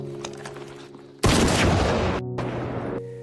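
A rifle shot fired toward a hill sounds as one sudden, loud blast that cuts in abruptly and rolls on as a long echoing boom, with low background music carrying on underneath.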